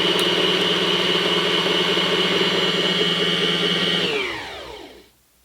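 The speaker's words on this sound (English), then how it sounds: "Now you just press the foot pedal and watch it wind the bobbin." A beginner's sewing machine winds a bobbin with a loud, steady motor whir that holds an even pitch, then slows and winds down to silence as the bobbin fills and the machine stops on its own.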